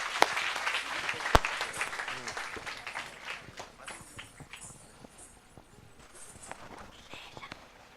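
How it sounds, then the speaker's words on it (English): Audience applause at an environmental education event greeting a performer before a welcome dance, a broad wash of clapping that is strongest at first and gradually thins out, with faint murmuring underneath. "Give her a big round of applause."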